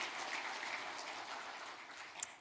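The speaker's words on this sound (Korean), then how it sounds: "한번 더 큰 박수로 하나님 앞에 영광을 함께 드렸으면 좋겠습니다." Church congregation applauding during a Sunday worship service, a steady, soft wash of many hands clapping at some distance, continuous throughout with no voices.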